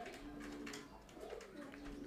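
Giant homer pigeons coo softly and steadily for about two seconds, a low murmuring call repeated close by with no talking over it.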